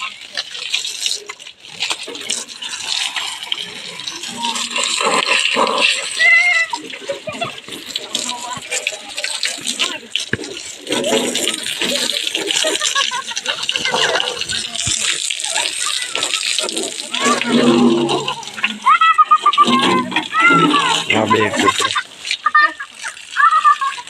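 Water from a hose splashes and gushes over a tractor being washed, a loud continuous spray with shifting splatter, while children talk nearby.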